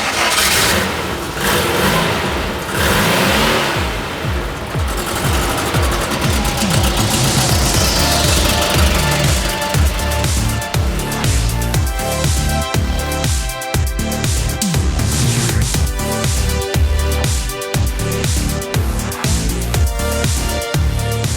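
A 1967 Porsche 912 rally build cranks and fires, then its engine revs hard again and again with rising and falling throttle blips, loud and close for about twenty seconds, with no talking.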